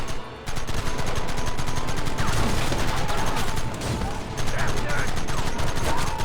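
Dense bursts of rapid gunfire in Red Dead Redemption, nearly continuous and loud, with a brief gap early on and overlapping shots throughout.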